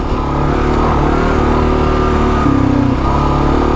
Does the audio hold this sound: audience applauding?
no